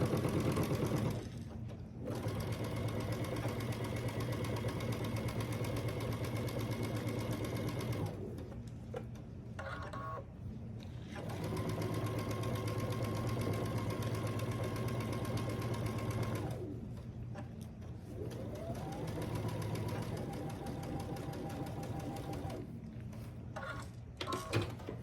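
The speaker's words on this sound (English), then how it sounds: "I'll stitch down this row. I'm gonna do a 1/4 inch seam." A sewing machine runs in several bursts while stitching a quarter-inch seam on a quilt block, with steady whirring stretches broken by brief pauses, close and fairly loud.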